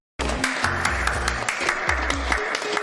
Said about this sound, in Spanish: ¡Aplaudan para don Fernando!